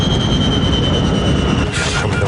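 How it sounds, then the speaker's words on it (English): Jet airliner engines shutting down after fuel exhaustion give a loud, sustained roar with whining tones that shifts and begins to drop near the end. "The passengers can hear the sound of the engines beginning to shut down."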